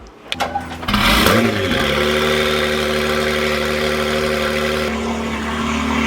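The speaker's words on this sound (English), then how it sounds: "Let's go get in the NSX, get a cold start, a really cold." A Honda NSX engine cranks and fires up on a cold start, revs briefly, then settles into a loud, rumbling idle close by.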